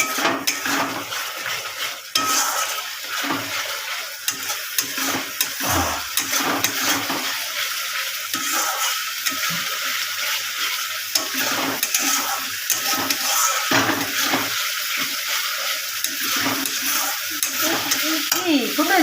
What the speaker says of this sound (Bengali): এই দেখো তেল ছাড়ছে কত, মশলাটা কষছে